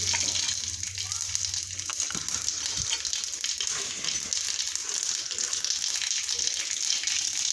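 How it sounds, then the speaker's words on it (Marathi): Cumin and mustard seeds crackle and sizzle in hot oil, a steady bright hiss running throughout with a few louder pops near the start. "जिरे मोहरी टाकून घेऊ"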